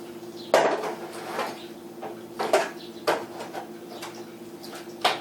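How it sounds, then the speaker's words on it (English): Corned beef and cabbage being turned over in an oven pan: a series of metallic clanks and knocks at irregular intervals over a steady low hum. "So I'm going to turn these over."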